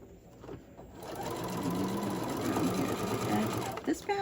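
Sewing machine running a steady stitch through slippery apron fabric with ribbon trim, a continuous close whir of about three seconds that stops abruptly, with no talk over it.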